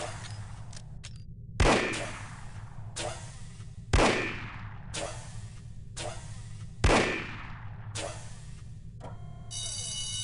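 Three loud, sharp revolver shots from the video game No One Lives Forever, spaced a few seconds apart and each ringing out briefly over a low, steady background hum.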